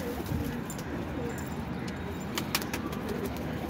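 Pigeons cooing softly in a loft, low quiet calls over faint background noise with a few brief higher clicks.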